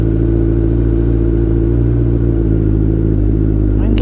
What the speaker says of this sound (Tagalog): Tingnan nga natin yung cold start niya.